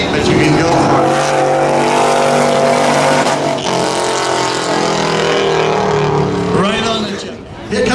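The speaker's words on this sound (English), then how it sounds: "somebody's right on the rev limiter there" A pickup truck at a spectator drag race at Beech Ridge roars loud and sustained, its engine pinned against the rev limiter with a steady, bouncing high-rpm drone.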